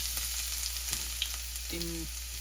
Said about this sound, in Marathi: आपण टाकतोय थोडंसं चॉप्ड केलेलं लसूण